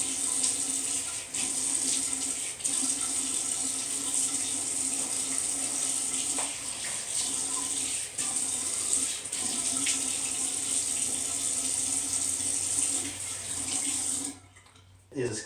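A safety razor is rinsed under a running tap, a steady broadband hiss of water into a sink that carries on for about fourteen seconds with small splashy shifts, then cuts off abruptly near the end.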